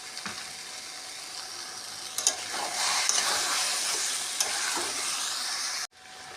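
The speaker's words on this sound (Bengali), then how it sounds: "কচুর শাকটা কিন্তু মাঝে মাঝেই নাড়তে হবে।" Taro leaves fry in a pan while being stirred now and then, a steady close sizzle and hiss with occasional scraping clicks, ending abruptly near the close, no talk.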